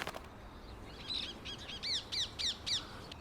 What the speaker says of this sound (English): Originally from India, this invasive bird, believed to have been accidentally released into the wild in the 1950s, can be seen and heard all over Richmond Park.